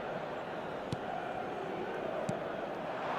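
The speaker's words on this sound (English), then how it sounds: "Now the crowd are demanding that they just finish this off." Stadium crowd in an eFootball match, a steady broad roar of many fans filling the background throughout, with a couple of brief sharp knocks standing out above the din.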